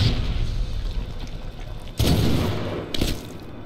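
Two heavy mortar blasts in the Medal of Honor video game, a loud boom followed a second later by another, each with a rumbling tail over steady battlefield ambience.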